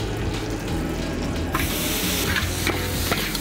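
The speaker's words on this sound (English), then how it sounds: "here you get a nice little sizzle" Food sizzles hard in a hot wok as a spatula stirs and scrapes the bottom, a dense continuous hiss broken by short scraping strokes.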